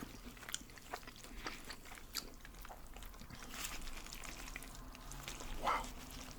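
Soft, close bites and wet chewing on a Fatburger triple king burger, faint crunches and mouth sounds over a low steady background hum, unhurried and quiet throughout.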